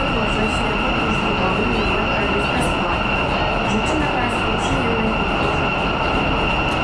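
A Warsaw Metro M2 subway train rides through the Targówek section toward a station, a loud, steady interior rumble with a constant high whine throughout.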